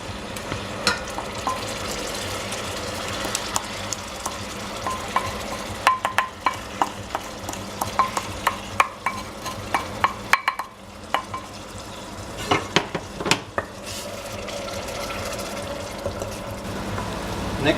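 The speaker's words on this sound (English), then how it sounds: "The butter has melted, and now we are gonna add the onions, the ginger," Onions, ginger and garlic fry in melted butter for chicken tikka masala, giving a steady low sizzle broken by sharp scraping clicks of a spoon stirring the pan.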